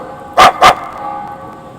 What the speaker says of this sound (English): Hey, isn't this Rita's dog?